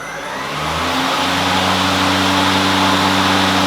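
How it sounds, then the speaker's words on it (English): Electric mower blades on a John Deere Z370R spin up, a loud rising whir that climbs to a steady hum and holds, with no talking. "what you do to start the mower blade is you press down on this button"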